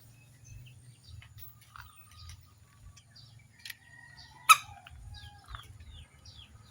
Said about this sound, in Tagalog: Yung ating mga alagang manok na yan.